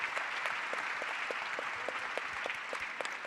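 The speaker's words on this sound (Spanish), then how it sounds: "Un aplauso para Yoyo." An audience at a technology and open-data conference panel claps together, a steady patter of many hands sustained evenly for a few seconds with no voices over it.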